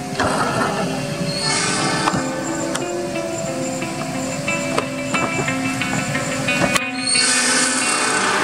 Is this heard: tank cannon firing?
no